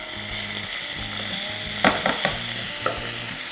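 Rice being stirred together with fried vermicelli in a pot, a close, steady sizzle with repeated scraping strokes of the spoon and a few sharp clanks against the metal.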